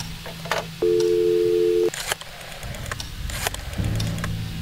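A telephone busy signal plays in a video game, a single loud, steady electronic tone lasting about a second, surrounded by clicks and handling noises, with a lower hum starting near the end.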